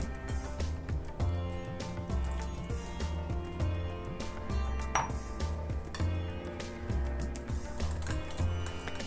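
Khaman dhokla batter is whisked briskly in a bowl in one direction, producing rhythmic clinking and tapping of the utensil against the bowl over a steady background, with no talking.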